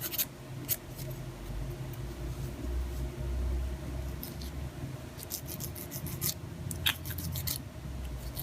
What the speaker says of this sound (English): let's just cut this piece off